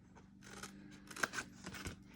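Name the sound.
scissors snipping paper box score lines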